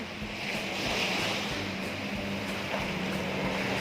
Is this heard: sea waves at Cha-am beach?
yes